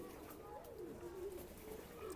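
Soft, low cooing of pigeons, repeated warbling calls close by over a faint background murmur.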